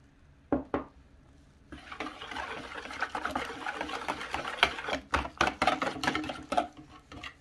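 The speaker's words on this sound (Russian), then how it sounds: "Замешиваю такое однородное тесто без комочков." Batter for cabbage pancakes being mixed by hand in a bowl, giving soft, close scraping and stirring with irregular light clinks of a utensil against the bowl, fairly quiet throughout.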